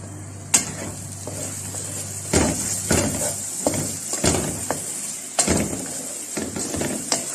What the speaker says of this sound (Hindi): ये देखिए वो अच्छे से भुन गया हमारा कीमा